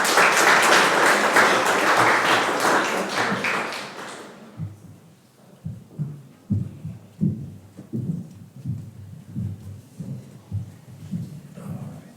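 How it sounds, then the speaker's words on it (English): Applause for Mrs. Klein at a Preston school board meeting, a full room clapping loudly for about four seconds, then stopping abruptly and giving way to a few scattered thumps and taps. "If we can give Mrs. Klein a big round of applause."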